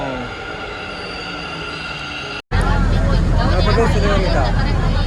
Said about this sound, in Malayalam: മെട്രോ വന്നു